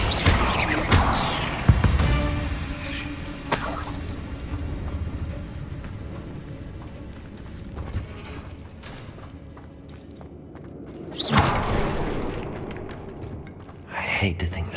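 A Bombarda spell from Hogwarts Legacy fires off in a few sharp, loud blasts with crashing debris over a rumbling game background. A voice calls out spell names over the action.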